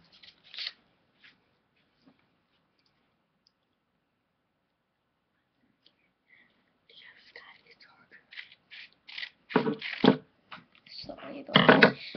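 Scissors snip through paper while making a binder: a quiet stretch gives way to a cluster of crisp, close cutting sounds near the end, mixed with soft, whispery speech.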